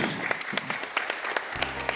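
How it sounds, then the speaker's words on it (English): An audience at Summer Games Done Quick 2015 applauds during a Castlevania: Rondo of Blood speedrun, a dense patter of many hands clapping, moderately loud, with a brief low hum or voice near the end. "And I appreciate the applause"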